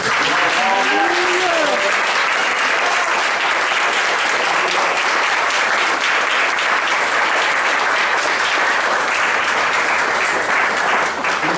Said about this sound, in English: I just want to give an applause for all of our Akim